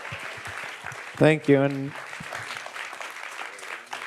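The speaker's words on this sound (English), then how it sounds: "Ladies and gentlemen, can we give one last of applause for our panel and also the Rebound?" Applause for a Q&A panel carries under a speaker's voice, a steady wash of clapping behind brief words of thanks.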